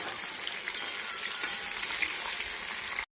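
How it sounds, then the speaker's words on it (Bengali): Garlic, slit green chili and eggplant frying in a pan, a loud, steady close sizzle with a few sharper crackles and stirring, ending abruptly. "রসুনটাকে হালকা ভেজে নিয়ে দেখো চেরা কাঁচা লঙ্কা আর বেগুনটাকে দিয়ে দিলাম। এটা হালকা করে ভেজে নেব।"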